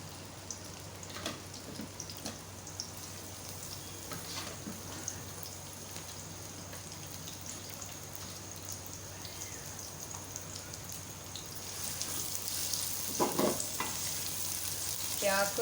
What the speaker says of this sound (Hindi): प्याज को ज़रा फ्राई करें अच्छी तरह से।